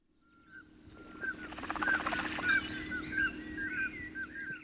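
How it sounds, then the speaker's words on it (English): A common scoter duck calls out on the sea, giving a string of short tonal notes that rise in loudness and repeat in a loose rhythm over a low, steady background wash. "Common scoter has to be one of the most amazing ducks."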